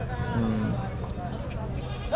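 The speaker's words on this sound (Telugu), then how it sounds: "ఇవి నాందేడు మేకలు అంటండి" Goats bleat over a busy, noisy livestock market crowd in Kodad, Telangana, with people talking nearby; the animal calls are short and partly buried in the chatter.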